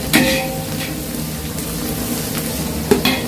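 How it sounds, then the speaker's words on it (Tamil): Onions with ginger and garlic sautéing for a large batch of chicken biryani, a steady broadband sizzle with scraping stir strokes near the start and near the end, continuous and fairly loud with no talking. "வெங்காயம் வந்து நல்லா வதக்கி விட்டுக்கலாம்"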